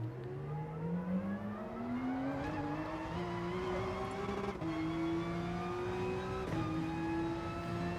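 A Porsche GT3 RSR race car in a racing video game lapping Mount Panorama, its engine whining steadily upward through the gears with brief dips at each shift, loud and continuous, no voices.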